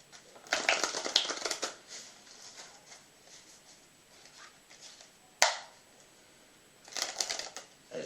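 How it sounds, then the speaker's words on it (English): A deck of playing cards being shuffled and cut, with two bursts of riffling flutter, a sharp single snap in the middle, then another short riffle, close up with no talking. "you start off to shuffle and cut those cards"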